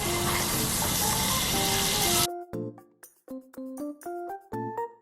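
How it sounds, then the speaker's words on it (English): Butter sizzling loudly in a hot pan for sauce, a dense steady hiss for about two seconds that then breaks into quieter, uneven spatters and crackles as it melts down. "For the sauce, I'm going to start off with a little bit of butter here."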